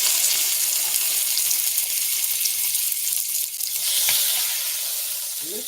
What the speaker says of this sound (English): Ooh, listen to the sizzle.